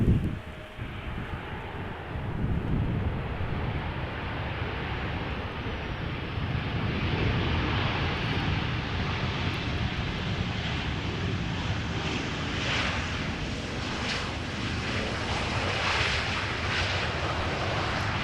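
A ten-year-old passenger jet at Amsterdam Schiphol Airport gives a sustained, broad engine roar with some wind buffeting on the microphone, holding steady and fairly loud for the whole stretch with no speech.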